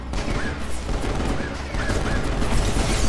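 Shooting and explosions in Final Fantasy XV during the Episode Prompto chapter, a dense continuous rumble of shots and blasts with a few high chirping tones on top, steady and loud throughout.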